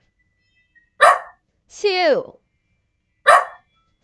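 A voice imitates a dog during a kids' yoga session, giving two short, sharp yipping barks a couple of seconds apart, with a single spoken count between them.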